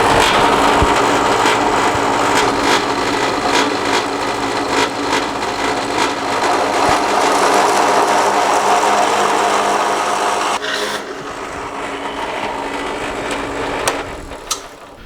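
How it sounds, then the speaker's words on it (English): A power drill boring a hole in wood whirs steadily and loudly for about ten seconds, grinding with rattling texture, then drops to a lower, quieter run before stopping. "Setting up the drill bit now, and let's drill this hole."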